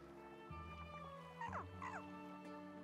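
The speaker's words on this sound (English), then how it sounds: "Such a cute dog." A puppy in the video game Fire Emblem Engage gives soft whimpers and short yips over gentle sustained background music, fairly quiet throughout.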